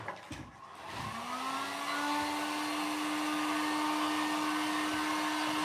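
A hair dryer or heat gun warming a WoodUbend moulding starts after a brief faint clatter, then holds a steady, close, rushing blow with a constant whining tone to the end.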